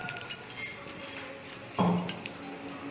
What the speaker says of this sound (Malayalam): ഒരു ചെറിയ ഫ്രൈ പാൻ വെക്കാം ഇതിലേക്ക് ഒരു ഒന്നര ടേബിൾ സ്പൂൺ വെളിച്ചെണ്ണ ഒഴിച്ചു കൊടുക്കാം